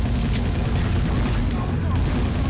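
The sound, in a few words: gunfire in the video game SiN: Wages of SiN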